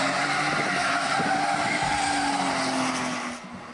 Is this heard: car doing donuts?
yes